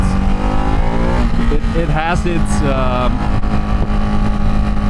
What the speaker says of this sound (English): Definitely the best sound. A 1-cylinder.